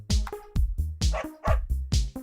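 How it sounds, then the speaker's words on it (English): A guard dog barks repeatedly in the video game Always Sometimes Monsters, loud, close, evenly spaced woofs, about seven in quick succession. "Is that a dog? That looks like a guard dog."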